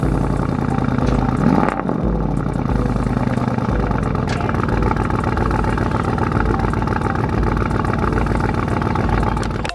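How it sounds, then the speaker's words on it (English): A car engine idles steadily and loudly throughout, with a brief swell in pitch early on as it revs, then settles into an even, throbbing run. "I just want y'all to hear what that car sound like"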